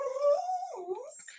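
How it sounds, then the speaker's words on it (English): A dog in a backyard whimpers and whines in a wavering, high, drawn-out cry lasting about a second and a half, fairly close and alone. "There's a dog in the backyard."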